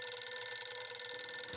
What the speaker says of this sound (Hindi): नलिनी पुत्र, मैं कब से तुझे फोन पे फोन किए जा रहा हूँ, तू फोन नहीं उठा रही है।